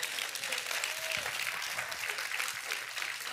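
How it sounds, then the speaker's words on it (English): Congregation applause during a church service, a dense patter of hand claps filling the room at moderate level, with faint voices underneath. "That's a good place to give God a hand clap."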